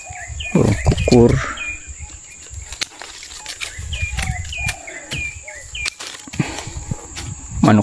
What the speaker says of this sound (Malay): dengar bunyi burung, bunyi ayam berkokok.